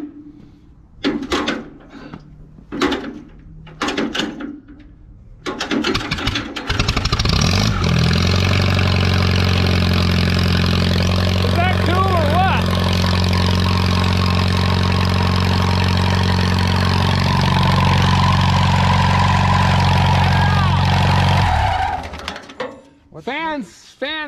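A 5-ton truck engine cranks and catches after a few clicks and knocks, then settles into a loud, steady low idle for about fifteen seconds before shutting off, with faint voices around it.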